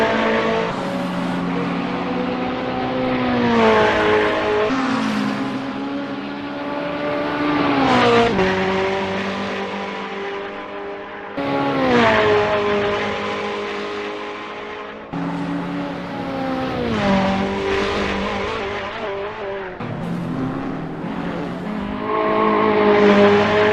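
GT3 race cars, including a BMW Z4 and a Ferrari 488 GT3, lapping Bathurst in a racing game: a loud engine screams through repeated upshifts and downshifts, with rising and falling pitch sweeps and occasional tire noise, no voices.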